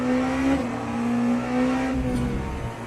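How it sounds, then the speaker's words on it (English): Hypercar tires squealing under understeer in a racing game, a steady tonal whine riding over a loud, sustained engine drone through the corner. "See how it understeers like that? You can hear the tires."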